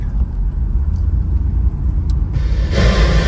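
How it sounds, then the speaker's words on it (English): A 1987 Cadillac Brougham rolls along the road, its steady low engine and tire rumble running throughout, with a brighter surge of road and wind noise building near the end. "Car drives nice and straight."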